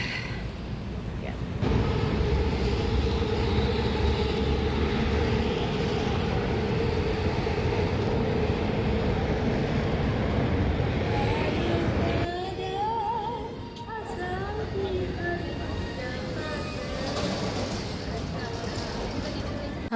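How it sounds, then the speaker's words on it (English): A train ride in Kuala Lumpur carries a continuous loud rumble and rattle of the carriage, with a brief drop in noise midway and faint squeals and voices around it. "I was taking the train back to town"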